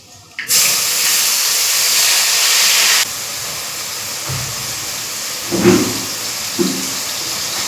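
Nigella seeds and green chili paste dropped into hot oil, a sudden loud hissing sizzle that holds steady for a few seconds, then settles into a softer sizzle with occasional stirring knocks.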